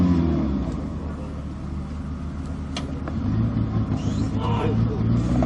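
Bofors 155 mm howitzer barrel being raised to its maximum elevation, a steady low mechanical rumble of motors and hydraulics running continuously with a slight swell partway through, close and moderately loud.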